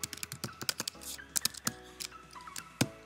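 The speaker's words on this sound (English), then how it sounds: "Let me type my password in." Fingers type a password on a computer keyboard in a quick, irregular run of crisp, close key clicks across three seconds, with a few louder keystrokes standing out and no voices.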